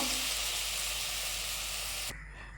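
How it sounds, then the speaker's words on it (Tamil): Mashed banana frying in ghee left over from roasting cashews for banana payasam, giving a steady, loud sizzle that runs unbroken and then drops away sharply near the end. "இந்த வாழைப்பழத்தை இந்த நெய்லேயே நல்லா வதக்கிக்கலாம்"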